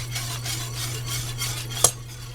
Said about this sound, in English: whisk it in, bring it to a rolling boil